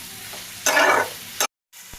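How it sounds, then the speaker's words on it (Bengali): Masala and cut potatoes for a mushroom curry stir-fried in a pan: a loud burst of sizzling and scraping as the ingredients hit the hot oil, a second short burst, a brief silence, then quieter frying resumes. "দেখতে পাচ্ছি মশলাটা কষানো হয়ে যাচ্ছে।"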